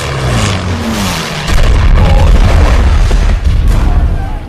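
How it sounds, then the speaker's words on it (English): A loud, deep explosion in the film Valkyrie (2008) booms and rumbles with heavy low-end roar, sustaining for a few seconds amid other noise. "What an explosion!"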